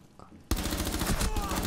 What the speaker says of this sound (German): Der schießt einfach sinnlos durch die Holzbretter durch.